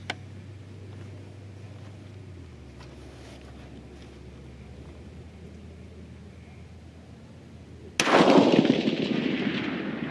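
A single sharp, loud rifle shot cracks out near the end, loaded with a 44.5-grain powder charge during charge weight testing, after a long stretch of quiet outdoor background, its blast decaying over the following seconds.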